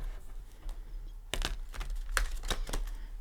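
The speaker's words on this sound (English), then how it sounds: "but I like to shuffle them with you." A deck of Tarot of Dreams cards is shuffled by hand, giving a quiet stretch followed by a run of sharp, close riffling snaps and clicks.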